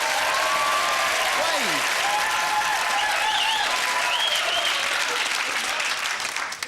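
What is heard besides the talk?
studio audience applause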